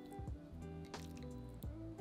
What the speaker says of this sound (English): Add the pork belly slices to a large pan.